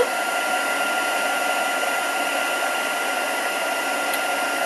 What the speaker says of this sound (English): Right, heat gun is warm.